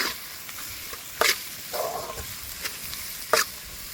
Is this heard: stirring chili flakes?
yes